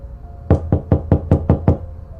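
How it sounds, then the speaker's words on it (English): Seven sharp knocks at a door, evenly spaced and close, in a quick steady rhythm within a quiet room. "until there was a knock at the door."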